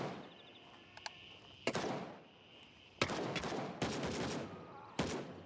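Gunfire in the shooter game Gray Zone Warfare: several sharp, loud shots and short bursts crack out at irregular intervals over a low background hum.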